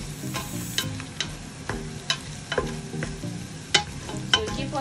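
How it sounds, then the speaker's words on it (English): Meat frying in a pot for Kenyan Swahili pilau, stirred with a utensil that scrapes and clanks at irregular moments over a steady close sizzle, with no talking. "So we keep on stirring for some few minutes."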